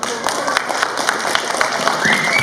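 An audience at a school Pongal celebration claps steadily, a dense, even wash of hands under a voice that keeps speaking over it.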